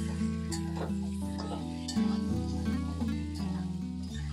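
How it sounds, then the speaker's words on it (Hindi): Chicken pieces and tomatoes frying in a pan for a chicken, potato and pumpkin curry, with soft sizzling and stirring under sustained background music. "तो देखिए किस तरीके से हमारा चिकन भुना जा रहे हैं।"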